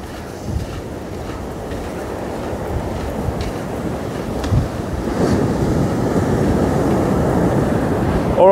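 Surf rolling onto an Australian fishing beach at Kalbarri, a steady broadband wash of breaking waves with wind buffeting, swelling louder toward the end, no voices.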